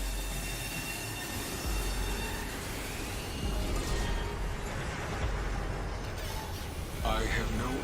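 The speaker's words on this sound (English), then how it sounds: "Step aboard the train. Oh, it's a train." A train rolls steadily along its rails in the video game Remnant 2, a constant low rumble with rhythmic wheel clatter and faint squeals, under quiet talk.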